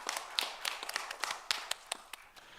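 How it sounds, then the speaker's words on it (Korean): A church congregation applauds during a Sunday service, a thin scattering of individual claps, sharp and irregular, fairly faint and spaced apart rather than a full ovation. "하나님께 영광의 박수를 드리겠습니다"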